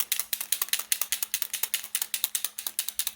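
A paint marker is shaken hard so its mixing ball rattles inside, giving a fast, even run of sharp clicks, close and alone.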